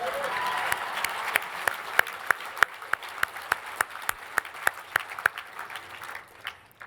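Gala audience at a Fallen Patriots event in Greenwich applauding a standing ovation, a dense steady wash of clapping with sharp individual claps popping out in a regular rhythm, fading near the end.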